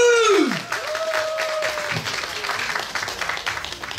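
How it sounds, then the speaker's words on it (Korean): After a descending sung or shouted note, a crowd at a Korean pumba folk performance applauds in a steady, moderately loud patter, with a voice briefly speaking over the clapping. "박수."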